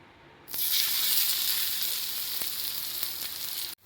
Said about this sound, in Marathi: इथं बघा ब्रेड क्रम्स लावल्यानंतर पण छान असं फ्राय झालेलं आहे आपलं कटलेट, मस्त शॅलो फ्राय